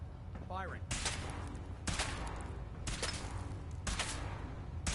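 Weapon fire in Fallout: several loud, dense bursts of shots roughly a second apart, booming over a steady noisy background, with a voice briefly audible at the start.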